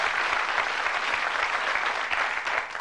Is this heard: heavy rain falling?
no